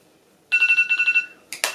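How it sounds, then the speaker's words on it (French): An apartment intercom buzzer rings nearby and loudly, sounding as a rapid warbling electronic trill for under a second, then two short sharp tones after a brief gap. "Ah ça sonne à mon interphone."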